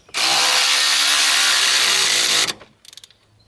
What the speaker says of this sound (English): I'll go ahead and adjust this down, tighten this down.